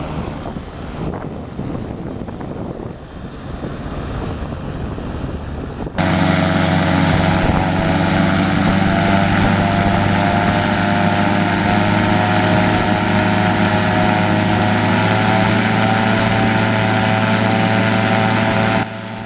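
A Streak Shadow light aircraft's engine and propeller are run up on the ground. Faint, rough wind-blown noise comes first, then from about six seconds the engine cuts in loud and close and holds a steady, droning, multi-toned roar until the end.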